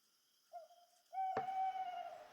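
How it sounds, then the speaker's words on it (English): An owl hoots twice in the video game Everlasting Summer, a short soft call followed by a longer, louder drawn-out hoot close by, with a sharp knock at the start of the second call and quiet around it. "Suddenly, an owl hooted nearby"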